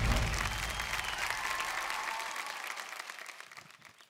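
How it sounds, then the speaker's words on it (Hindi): An audience on a TV talent show bursts into loud, sustained applause, a dense crowd clapping that slowly fades over a few seconds. "जोरदार तालियां बजाइए यार"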